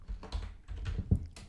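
Computer keyboard keys tapped while an expression is typed into After Effects, a quick, irregular run of soft clicks close by with no one talking.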